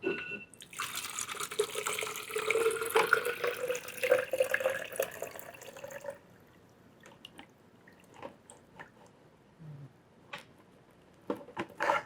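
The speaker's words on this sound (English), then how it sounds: "I'm going to pour my chemical back out." Film developing chemical poured out of a developing tank, a steady splashing liquid stream for about six seconds, followed by a few faint drips and small clinks.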